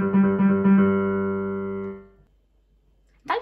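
A fast piano passage from Vivaldi's Summer Storm rings out as one sustained, resonant chord that slowly decays, followed by silence and a brief noise at the end.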